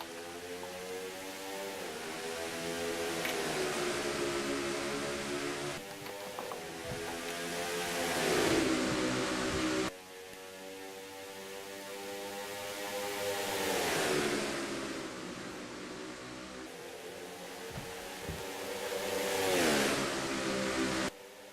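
Race car engines in a Dover oval racing video game rev and accelerate in repeated rising sweeps, each climb cut by a gear shift, loud and continuous with no talk.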